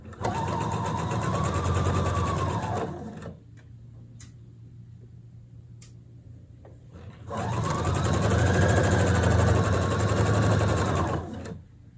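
A sewing machine stitches a straight seam on a blouse in two loud, steady runs of rapid motor whirring, separated by a few seconds of quieter pause with faint clicks.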